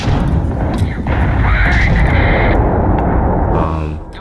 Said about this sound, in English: using the middle mouse button, you can use the big guns